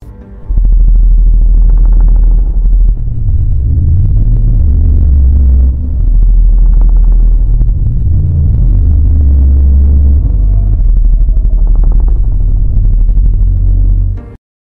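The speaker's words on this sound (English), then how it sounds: "The BBC documentary The Real T-Rex used a mix of sounds from a Eurasian bird and a Chinese alligator adjusted for an animal weighing 8 tons" Reconstructed Tyrannosaurus rex vocalization blended from a Eurasian bird and a Chinese alligator, scaled for an eight-ton animal: a loud, deep, sustained rumbling growl swelling in slow waves for about fourteen seconds, heard alone.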